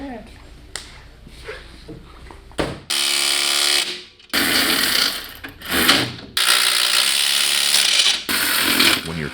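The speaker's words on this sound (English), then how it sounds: "With crossovers set and ride heights accurate, you can now tighten all the hardware for all the shocks." Ratchet wrench tightening shock mounting hardware on a Polaris RZR Turbo S fitted with dual rate springs, heard as loud bursts of rapid clicking in several sustained runs, with brief quieter handling noises between.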